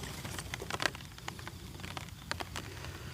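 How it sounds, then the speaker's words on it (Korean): Rain patters on an umbrella in a flower garden, a soft, irregular scatter of light drops and taps, faint and close, with no talking. "빗소리가 요란합니다"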